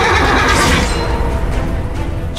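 A horse in the medieval battle game Chivalry 2 gives a loud, close whinny that rises and trails off, followed by rough breathing and noise.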